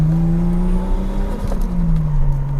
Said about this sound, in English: it's such a nice sounding engine, very different to the sort of throatier, deeper RB26 sound. This is raspier and barkier